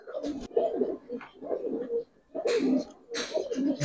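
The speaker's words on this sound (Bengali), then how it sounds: "পুরান জাতের একটা নাপথা কবুতর ভাই" An old-breed Naptha pigeon coos in soft, throaty bursts, several short phrases close by with small gaps between them, and a voice speaking nearby.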